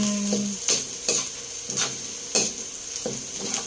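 Garlic frying in a pan for pork estofado, sizzling steadily while a utensil stirs it in repeated scraping strokes roughly every second, close and clear with no talk.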